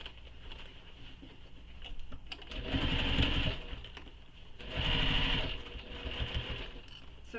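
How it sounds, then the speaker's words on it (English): Two short bursts of a sewing machine stitching straight across a tote bag, close by, over a quiet room hum with light handling sounds and no talk. "I'm sewing straight across."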